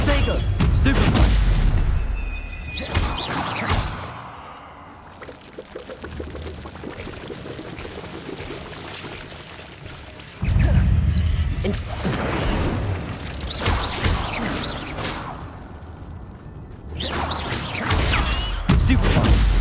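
Spell combat in Hogwarts Legacy with the Stupefy spell being cast, loud booming impacts and blasts in bursts at the start, around the middle and near the end, with quieter swirling effects between and a voice shouting over them.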